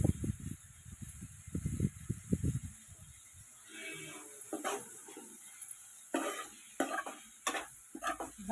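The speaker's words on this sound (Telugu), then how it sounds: "అల్లం పచ్చిమిరపకాయ అంతా మొత్తం కూర అంతా పట్టేదాకా కలపాలండి." A broad bean curry with ginger and green chilli is stirred in a frying pan: a spoon scrapes and clinks in uneven bursts over a soft steady sizzle, close up, with someone talking over the first few seconds.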